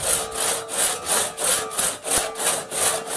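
Hand saw cutting wood in steady back-and-forth strokes, about eight rhythmic rasping pulls close by, with no talking.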